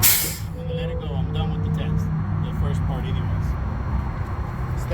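A truck's air brake system releases its pressure at the end of a cab brake inspection, a broad hissing rush of air that starts loud and then settles into a steady sustained hiss beneath someone talking.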